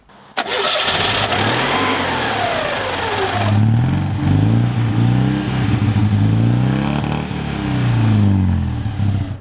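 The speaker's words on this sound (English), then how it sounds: "nothing sounds like a 2CV. They just have this little warble about them that I just love." A 1987 Citroën 2CV's small two-cylinder engine cranks, catches and settles into a loud, uneven idle with a throbbing, warbling rhythm, close by.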